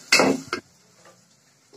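Noodles go into a pan of beef for chow mein with a sharp metallic clatter of a utensil against the pan, then a second clink and quieter scraping while stirring.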